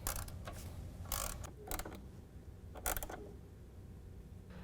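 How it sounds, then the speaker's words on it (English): Hose clamps are tightened on a Harley-Davidson turbo charge tube running from the intercooler to the turbo, producing several short ratcheting, creaking bursts over a low background hum. "Push your clamps up and tighten them down."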